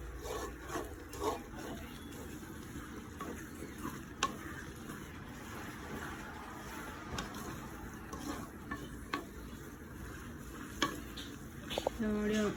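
A spoon stirs and mixes food in a pan with soft scraping and faint sizzling, intermittent clinks punctuating the steady texture, close by and moderately loud throughout.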